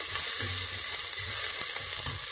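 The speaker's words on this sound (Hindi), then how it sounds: "तेल के अंदर सबसे पहले अदरक और लहसुन की जो पेस्ट है वो शामिल करेंगे" Ginger-garlic paste sizzles and crackles steadily in hot oil, a constant close frying hiss with faint stirring scrapes.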